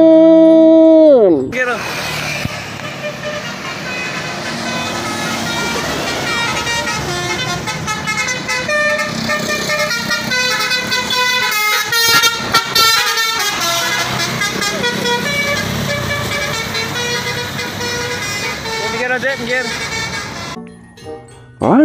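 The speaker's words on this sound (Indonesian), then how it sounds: "Wah, kali ini ada bus laju prima teman-teman" A Laju Prima bus sounds a long, loud musical horn, a melodic sequence of shifting honked tones that plays for about twenty seconds near the listener, opening with a falling tone and ending abruptly.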